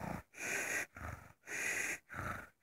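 A human voice imitating snoring: four rhythmic, raspy breaths alternating in and out with short silent gaps, close and fairly quiet.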